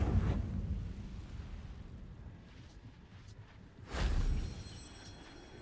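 Incendio fire spell cast in the Hogwarts Legacy video game: a burst of whooshing flame erupts near the start, quieter magical rumble follows, then a second loud fiery blast around the four-second mark.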